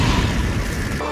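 A fire-style searing migraine attack in an animated fight, a dense, loud roaring blast with heavy low rumble that sustains for about a second, with no voices.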